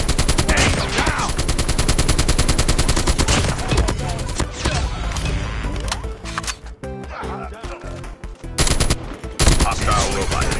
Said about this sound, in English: Sentry gun ready for deployment. Sentry gun deployed.